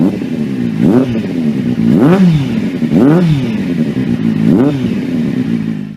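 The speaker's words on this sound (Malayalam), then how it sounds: "നാലാമത്തെ കാര്യം എക്സോസ്റ്റ് സൗണ്ടാണ്." A multi-cylinder motorcycle exhaust revs loudly and close up, four sharp throttle blips rising and falling about once a second over a steady idle.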